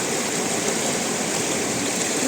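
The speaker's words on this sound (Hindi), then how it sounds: "इधर नीचे जायरू का पानी है जो पहाड़ों के बीच से निकलता है" Clear mountain spring water pours steadily out of rock, making a continuous close rushing hiss with no breaks and no voices.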